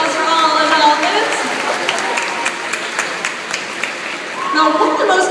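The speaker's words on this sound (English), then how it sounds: "One more round of applause for all the dolphins." Audience applause at a dolphin show at Brookfield Zoo, a crowd clapping with scattered sharp claps, mixed with voices and the bustle of a large audience.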